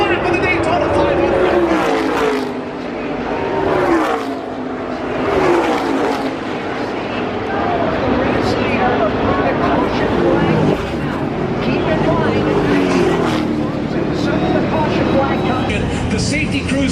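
Race cars roaring through the final lap of the 2021 Daytona 500, a dense, loud wall of engine noise rising and falling as the pack sweeps past, with a voice talking over it.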